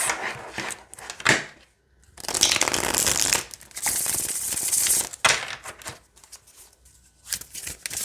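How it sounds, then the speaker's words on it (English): Flights of Fantasy tarot cards being shuffled by hand, a series of close, crisp riffling and papery slapping bursts separated by short pauses. "It shuffles so"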